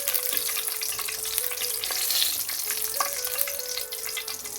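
Cardamom, cloves and bay leaves crackle in hot oil for a cauliflower curry, a bright steady sizzle with scattered pops and light stirring taps, close and continuous.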